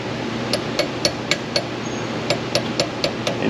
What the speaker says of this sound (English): I'm just going to kind of tap it down with a hammer